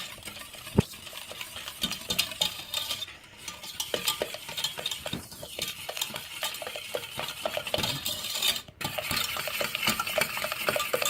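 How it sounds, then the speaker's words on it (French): Eggs being stirred with sugar in a bowl for lemon and basil macarons, a steady clatter of utensil against the bowl with sharp clinks throughout, close and fairly loud, with no talking. "on va d'abord remuer les œufs avec le sucre"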